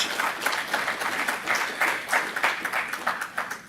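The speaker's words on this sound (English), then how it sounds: "Can we just give them a round of applause?" Audience applause welcoming a visiting delegation at an MOU signing ceremony, a moderate, even wash of many hands clapping from a mid-sized room, fairly soft and continuous.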